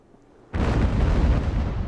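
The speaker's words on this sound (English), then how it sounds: "The fact that all these ships just opened fire relentlessly" Warships exchange cannon fire in the naval battle game Ultimate Admiral: Age of Sail. After a quiet opening, a loud, sudden roar of overlapping broadside blasts breaks out and keeps rumbling heavily to the end.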